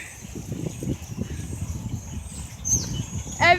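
A flock of birds calls across a residential street, thin chirps and tweets scattered faintly over low rumbling background and a brief sharper trill near the end, with a person's voice briefly present.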